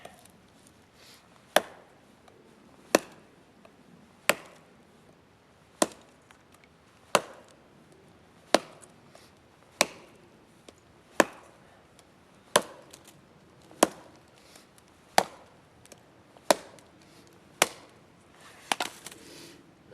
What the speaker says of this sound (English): Chopping it.